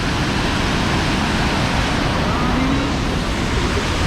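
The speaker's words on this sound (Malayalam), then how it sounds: "എന്ത് ശക്തമായിട്ടാണ് വെള്ളം വീഴുന്നേക്ക്." Thommankuthu waterfall roars powerfully in a dense, unbroken rush of falling water, loud and close with no pauses.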